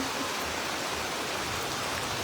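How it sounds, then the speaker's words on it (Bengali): Heavy rain falls in an unbroken, close hiss, steady and loud throughout the short stretch, with no talking. "প্রচণ্ড বৃষ্টি হচ্ছে প্রচুর ভিজে গেছি"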